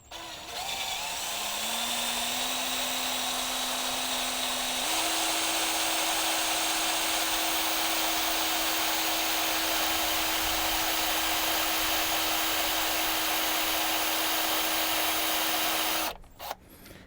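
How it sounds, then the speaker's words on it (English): A power drill bores straight through the head of a rivet on a 1992–2000 GM 4WD K truck ball joint, using a bit slightly larger than 1/8 inch; a steady loud whine rises in pitch early on and runs continuously before stopping abruptly. "I'm going to try to weaken this one rivet a little bit more"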